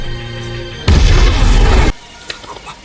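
A bomb detonates in an action film scene: a sudden loud, broad boom bursts out after a quiet musical stretch, roars for about a second, then cuts off to a low ambient tail.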